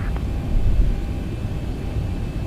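An XCrafts ERJ 145LR regional jet climbs out after takeoff in X-Plane 12, with a steady, loud, low engine roar and rumble filling the cabin continuously, no voices.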